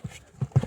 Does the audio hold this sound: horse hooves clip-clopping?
yes